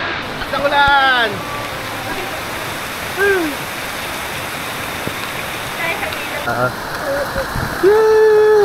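Steady rain falls over an abandoned mine site turned resort, a constant broadband hiss throughout, while several people talk and call out loudly over it.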